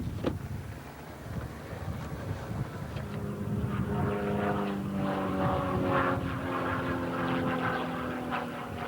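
A propeller aerobatic plane flies a difficult competition figure, its engine droning steadily with rising and falling pitch as it maneuvers, mixed with wind noise on the microphone.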